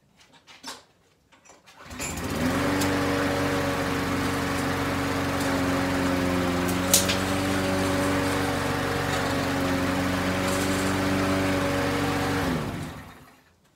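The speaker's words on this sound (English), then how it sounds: "Let's take a look and see how she starts up." A Briggs & Stratton 6.5 horsepower front-drive lawnmower engine starts after a couple of pulls and settles into a steady, loud, close idle for about ten seconds before cutting off.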